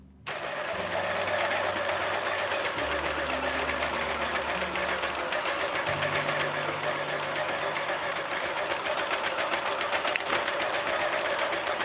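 A circular knitting machine works a beanie with a steady, continuous mechanical whir and rattle, loud and unbroken for the whole stretch, with faint low tonal hums drifting underneath.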